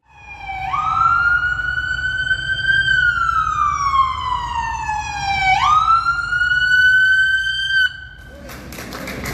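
State police cavalcade sirens escorting returning veterans: a loud, near wailing siren sweeps slowly up and down, then yelps sharply before cutting off into engine and road noise.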